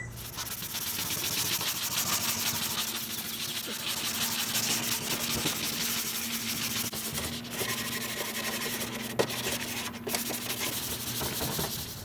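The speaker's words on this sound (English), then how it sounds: "Now we're gonna pull out the 100 grit." Sandpaper of 100 grit rubs by hand over the painted body of a 1989 Dodge van in a steady, continuous scratchy hiss, close and even throughout with only slight changes in stroke.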